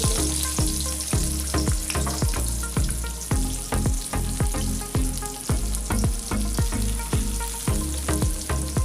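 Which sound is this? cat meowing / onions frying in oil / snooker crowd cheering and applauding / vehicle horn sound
onions frying in oil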